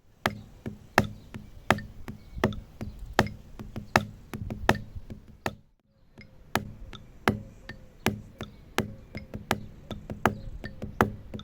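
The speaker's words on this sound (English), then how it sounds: "you hit the accent of the beat and then immediately drop into the ghosted diddles" Sharp snare drum accents repeat in a steady pattern, with quieter ghosted diddles filling the gaps between accents; a brief pause midway, then the pattern resumes.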